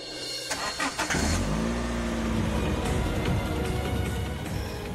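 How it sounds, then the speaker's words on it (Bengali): A car engine revs and passes close by, building from a start into a steady, loud mid-pitched drone that holds for several seconds with no voices. "গাড়ির শব্দ"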